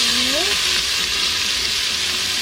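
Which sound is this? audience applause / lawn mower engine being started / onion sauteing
onion sauteing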